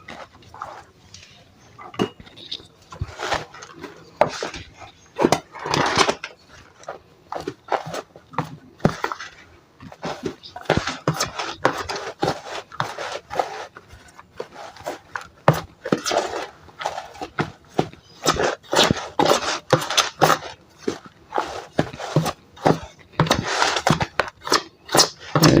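Potting mix is stirred by hand with two handfuls of dolomite lime for a 100 L grape planter bag, giving a steady run of rough scraping, crunching and clattering strokes close by, with no talk.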